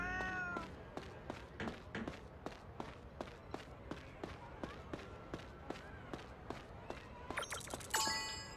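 A cat in the Wii game The Last Story, short meows heard against a steady run of rhythmic footstep-like thumps, fairly quiet, with a burst of bright chiming game sounds near the end.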